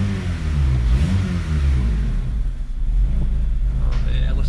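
Honda Civic engine, just repaired after an idle air control fix, revving in a steady loud run, its deep low rumble rising and falling under a murmuring voice.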